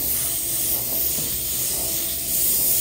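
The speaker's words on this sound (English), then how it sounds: "the faster you move this airbrush, the better off you are" An airbrush sprays paint onto a dragon wing in a steady, close, unbroken hiss that runs for about three seconds with no talking.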